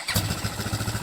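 A Kovi 250 Pro motorcycle with a ZS177 engine and a Nibbi PWK-type carburetor firing up, giving a quick run of even, throbbing exhaust pulses close by, with no talking.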